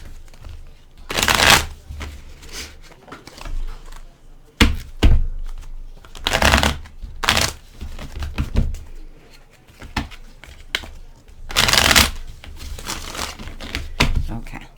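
Tarot cards being shuffled by hand, heard as several brisk, close papery bursts of riffling separated by short pauses.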